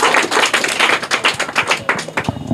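Loud, dense clapping from a group of schoolchildren applauding quiz winners at a school event, with sharp overlapping claps continuing steadily throughout and no talking.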